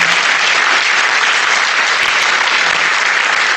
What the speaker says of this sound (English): give Dr. Beth Lewis and Ms. Jennifer Birdie a round of applause as well.